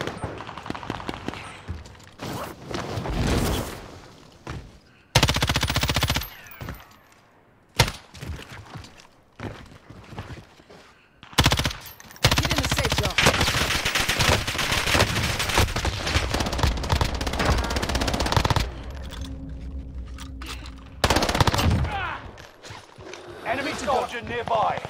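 Rapid submachine gun bursts in a multiplayer shooter game, loud and close, coming in repeated volleys with short pauses, mixed with clattering effects and a player talking over the action.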